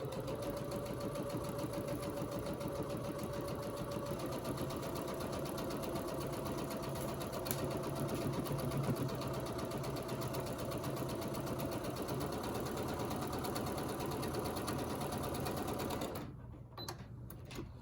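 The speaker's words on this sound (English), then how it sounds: "And we'll just sew that now." A sewing machine runs steadily and loudly for a long stretch, its rapid mechanical stitching rhythm continuous before stopping abruptly near the end.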